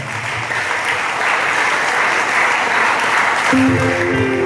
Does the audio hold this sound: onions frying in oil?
no